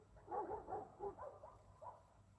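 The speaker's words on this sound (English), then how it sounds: "Can you hear the dogs?" Several dogs barking somewhere off in the distance, a string of about half a dozen muffled barks in an uneven rhythm, with no one speaking.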